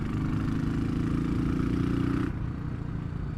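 A Royal Enfield Classic 500 motorcycle engine idles with a rough, rapid popping exhaust note like machine gun fire, steady and close, then the tone drops slightly near the end.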